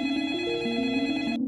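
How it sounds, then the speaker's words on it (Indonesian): A home telephone rings at night with a continuous electronic warbling tone, loud and close, cutting off abruptly near the end. "tepat pukul 10 malam, telepon rumah mereka berdering"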